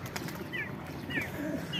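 Soft, low cooing from pigeons repeats a few times over a faint background hum, with brief chirpy bird calls mixed in.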